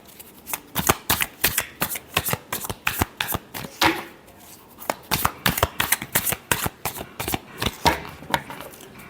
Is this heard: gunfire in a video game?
no